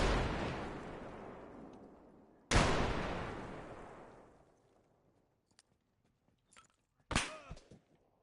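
Two heavy .50 calibre shots in a military shooter video game, each a sharp loud crack trailing into a long rumbling decay, followed after a pause by faint clicks and a brief burst of smaller noises.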